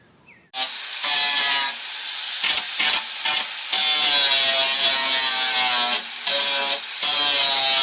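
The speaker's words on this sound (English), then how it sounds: "get the grinder and we'll grind those off" An angle grinder grinds off tack welds on metal from a 1966 Mustang under restoration, a loud, close, high whining scrape that starts abruptly and runs steadily with brief dips as the disc lifts and bites again.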